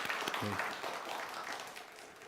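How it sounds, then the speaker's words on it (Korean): Church congregation applauding after a solo hymn at a Wednesday evening Holy Week service, a soft, steady wash of clapping with a brief low voice near the start. "감사의 박수 부탁드리겠습니다"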